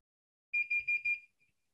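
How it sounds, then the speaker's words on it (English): A high electronic beep from a multimeter sounds briefly, slightly warbling, then cuts off into silence. "I'm getting an audible indicator. I've got a constant beep."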